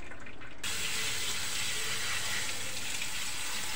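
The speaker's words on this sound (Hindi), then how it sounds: "अब मैं इसको इससे पानी निकाल देती हूँ।" Water from a pot of boiled vegetable noodles is poured off in a kitchen, a steady loud splashing gush that starts abruptly and runs on without a break.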